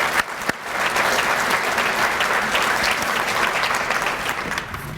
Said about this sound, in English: How about one more round of applause for the two of them?